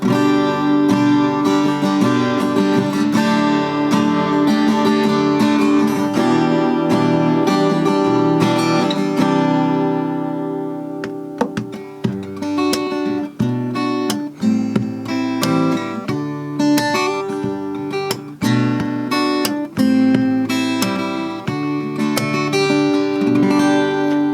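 An unamplified Martinlee MD-400c 40-inch acoustic-electric guitar strummed and picked, chords ringing out bright and close, shifting to a choppier rhythmic pattern partway through.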